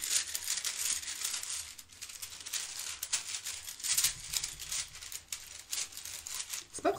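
Chinese fortune-telling sticks shaken and mixed in their container, a dense, continuous rattling clatter of wooden sticks, close and moderately loud, with uneven surges.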